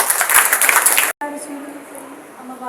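Audience clapping at a school Milad un Nabi program, welcoming a student speaker; dense broadband applause for about a second, then a brief cut and quieter room noise with faint voices.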